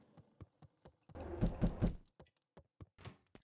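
Knocking at a door in the video game Beacon Pines, several short soft thuds in scattered groups with a denser burst of muffled banging in the middle, fairly quiet and with no talk.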